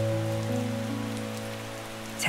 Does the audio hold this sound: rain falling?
yes